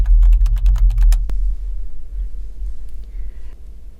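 Rapid clicks of a computer keyboard as a username and password are typed, about a dozen quick keystrokes ending in one firmer tap, then quiet low hum.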